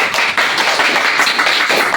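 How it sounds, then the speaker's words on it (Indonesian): Indoor audience claps hands in quick, dense applause, loud and close, lasting a couple of seconds with no talk. "Boleh dong tepuk tangan."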